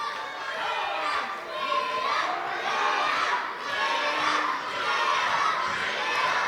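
Pro wrestling crowd at an ATTACK! Pro Wrestling event cheering and chanting in a loud, sustained, swelling roar, with many high-pitched young voices shouting throughout.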